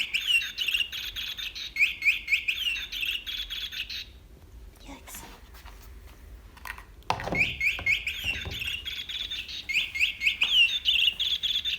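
An electronic chirping bird cat toy gives bursts of bright, rapid tweets that stop for a few seconds and then start again. A voice speaks briefly during the gap.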